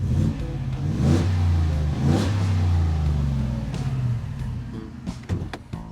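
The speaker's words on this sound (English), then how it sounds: "But man, I love that 5-liter V8, naturally aspirated, makes some wonderful sounds." A 2025 Rocky Ridge F-150 STX pickup with a naturally aspirated 5-liter V8 revs loudly and close through its exhaust, several throaty rises and falls in a row, then settles to a rumbling idle.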